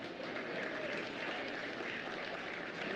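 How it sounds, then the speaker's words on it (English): A crowd applauds at a swine show after a Yorkshire gilt is placed, a steady, faint wash of clapping heard from a distance for several seconds. "Let's give those kids a big round of applause."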